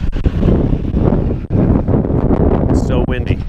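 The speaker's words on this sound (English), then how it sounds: "It's so windy." Strong wind buffets the microphone on a farm, a loud, steady low roar with gusty swells throughout.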